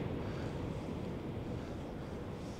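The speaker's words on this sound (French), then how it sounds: "Tu entends les vagues?" Ocean surf rolls at Nazaré beach in Portugal, a continuous loud roar of breaking waves mixed with heavy wind buffeting the microphone, with no distinct individual crashes.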